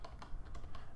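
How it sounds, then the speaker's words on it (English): Rapid keystrokes on a computer keyboard as a terminal command is entered, a short burst of close, crisp clicks in uneven rhythm. "you can just enable both of them by typing drush en and"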